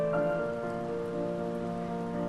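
Rain pattering steadily in the video game Heavy Rain, a soft continuous patter mixed with a faint sustained musical hum, no talking.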